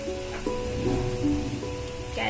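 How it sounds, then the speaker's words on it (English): Poppy seeds, cashew nuts and desiccated coconut fry in a pan, giving a steady close sizzle and crackle with no one speaking. "and the desiccated coconut, and fry it till golden brown"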